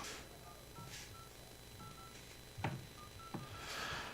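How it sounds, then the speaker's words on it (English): Keypad tones from a Samsung Galaxy S25 as a phone number is dialed, a series of short, faint beeps spaced irregularly with a couple of soft taps against quiet room noise. "go to keypad, and then we're just going to dial the phone number."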